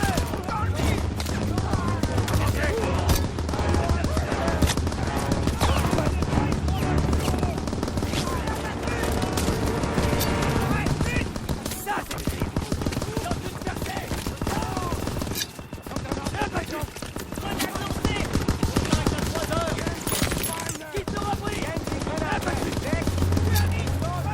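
Gunfire in the World War II shooter Call of Duty WWII: rapid bursts of rifle and machine-gun fire crackle through a noisy battle, with voices shouting in the mix.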